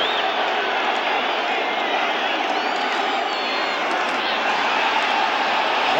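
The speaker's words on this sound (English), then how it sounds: "Crowd getting into it once again." A packed football stadium crowd at a 1985 Cowboys at Giants game roars and cheers in a dense, sustained wash of noise that stays loud throughout, with faint commentary voices mixed in.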